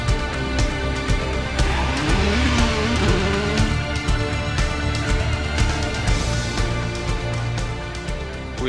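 A Hyundai i20 WRC rally car at a World Rally Championship event drives hard, its engine loud and close with rising and falling revs and gear changes running throughout.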